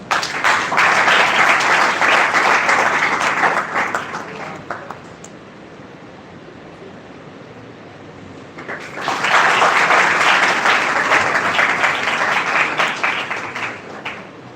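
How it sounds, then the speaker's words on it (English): A crowd applauds loudly for several seconds, fades to a murmur, then breaks into a second strong round of clapping. "Please have a huge round of applause."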